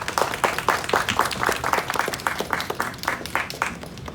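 A crowd applauds at an event to welcome Rebecca, a steady stretch of many hands clapping in a bright, even patter that fades slightly toward the end.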